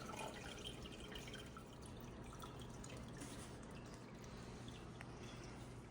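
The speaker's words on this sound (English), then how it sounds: "I'm gonna just add back in some more salt water into the tank. So I'm gonna pour it slowly" Salt water poured slowly into a saltwater aquarium tank, a steady soft trickle and splash running continuously at low level against a faint hum.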